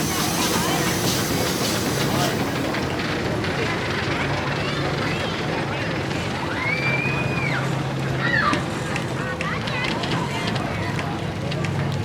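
A steam engine runs at a summer steam and engine show at Williams Grove, giving a steady, loud hissing and rumbling roar throughout, with voices faintly mixed in.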